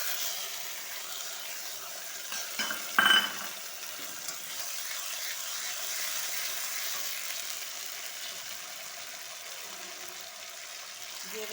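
Green chilli paste sizzling as it fries in a pan for a tangra fish curry, a steady close hiss running throughout with a brief louder clatter near the start.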